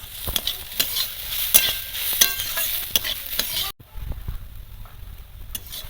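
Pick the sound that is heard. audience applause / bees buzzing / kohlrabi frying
kohlrabi frying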